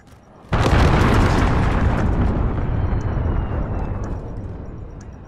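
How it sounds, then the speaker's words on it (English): A cruise missile strikes in the video game Call of Duty: Modern Warfare, a sudden, very loud explosion that becomes a long, deep, roaring rumble and fades slowly across several seconds. "Enemy cruise missile incoming."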